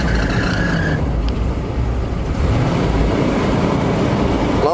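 A 1979 Chevy G20 custom van engine revs up, a loud, close, continuous roar that swells and then settles, with a brief whine early on and no talk.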